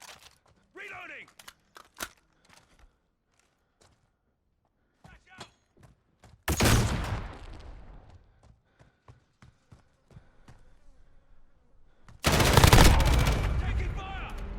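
Modern Warfare 2 gameplay brings two loud bursts of rapid automatic gunfire with scattered shots and footsteps between them, over a mostly quiet background.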